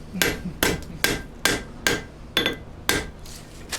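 A blacksmith's hammer strikes the anvil seven times in an even rhythm, each blow ringing sharply and decaying between hits, close and clear with no talk.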